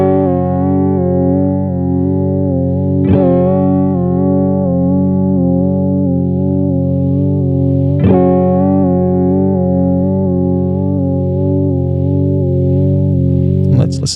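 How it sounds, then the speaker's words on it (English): A sustained synth-like guitar tone through a Chase Bliss Audio Warped Vinyl pedal set to triangle wave modulation, steadily and smoothly pulsing, re-struck twice with sharp attacks, loud and continuous throughout. "Let's hear a triangle wave real quick."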